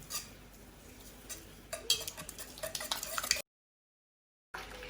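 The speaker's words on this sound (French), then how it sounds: "On va le remuer." Sugar being stirred in a pan for caramel, a spoon scraping and clinking against the metal in uneven strokes close by, growing busier before a sudden cut to silence.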